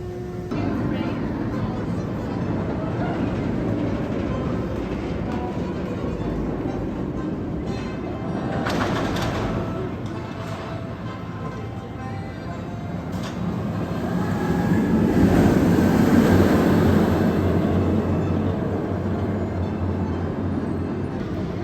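The Alpengeist roller coaster at Busch Gardens Williamsburg gives a loud, sustained rumbling rattle like a train on rails, swelling louder toward the end while people talk over it.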